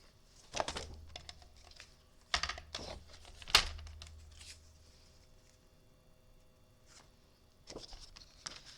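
Paper being cut for card making: quiet, sharp cutting clicks and snips come in a few separate bursts with soft rustling between them, and no one speaks.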